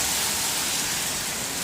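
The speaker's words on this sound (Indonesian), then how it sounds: "diguyur hujan deras guys, dan angin juga kena tuh guys." Heavy rain pouring onto a street in Kampung Satu, Tarakan, during strong wind, a loud, dense, unbroken wash of hissing noise close by, with no voices over it.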